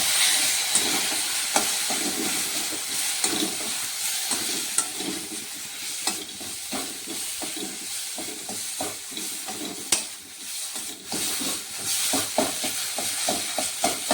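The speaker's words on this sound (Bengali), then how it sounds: "মশলাগুলো একটু ভেজে নিই।" Poppy seed, mustard and green chilli pastes fry in oil for bhindi chochori, a continuous close hissing sizzle with regular stirring knocks and scrapes against the pan, no voices.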